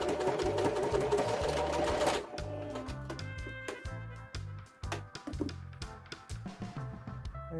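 Sewing machine running a flat stitch along the turned-in edges of a fabric wine gift bag, a fast whirring burst followed by short stop-start bursts of needle clatter, close and fairly quiet.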